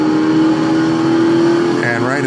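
Ford GT Mk II engine in the GPL racing sim, a steady loud drone holding one pitch, then a brief shift near the end where the tone drops and climbs again.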